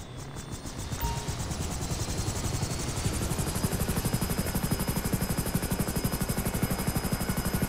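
Blue Thunder helicopter in GTA 5 Online spinning up, its rotor settling into a loud, rapid, steady chopping thump that runs unbroken and close throughout.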